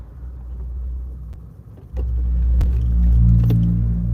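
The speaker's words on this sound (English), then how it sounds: "I am in traffic." A steady low rumble of road traffic fills the inside of a moving car, rising to a heavier, louder drone partway through as the vehicle picks up speed, with occasional small clicks and knocks and no talking.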